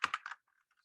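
Typing on a computer keyboard, three quick close key clicks in a short burst followed by faint quieter taps.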